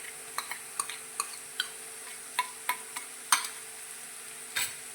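Crushed ginger, chilli and garlic sauté with onions in a pan, a soft sizzle broken by a series of sharp, evenly spaced clicks and taps from a stirring spoon.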